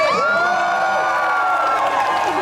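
A loud convention crowd at a comic con Q&A cheers and whoops continuously, many voices blending into a sustained roar.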